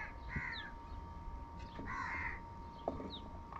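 Several crows caw in loud bursts, some close and some farther off, with the calls repeating at irregular intervals over a steady hum of outdoor background noise.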